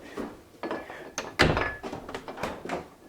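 Wooden door on freshly replaced hinges, swung shut and open several times, giving a series of solid thunks with one heavy close-up slam and light creaking between, recorded indoors.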